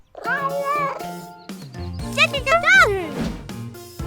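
Cat meows in a children's cartoon picnic scene, several rising and falling cries spread through the clip, up close and fairly loud, with a voice speaking alongside.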